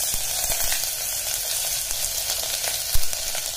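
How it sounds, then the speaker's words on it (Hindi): Finely chopped onion frying in hot oil with cumin seeds on a low gas flame gives a steady close sizzle with small pops and a brief stirring clatter, and no one speaks. "एक बड़े साइज की प्याज को बारीक कट कर लिया है वो डालेंगे।"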